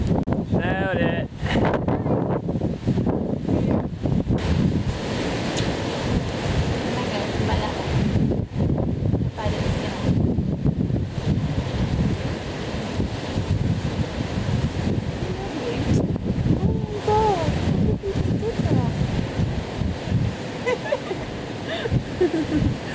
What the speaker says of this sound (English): I'm going to do a little scan, which is going to be really windy.